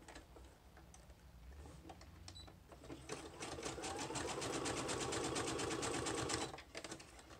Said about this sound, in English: I'm going to go ahead and sew across the top here.